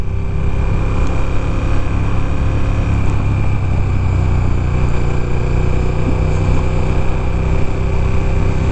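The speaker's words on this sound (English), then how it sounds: "this bike just wants to go fast" A 2015 KTM 1290 Super Duke R with a 1300 cc V-twin engine pulls hard in second gear, its steady, loud engine drone continuous and close throughout with no talk.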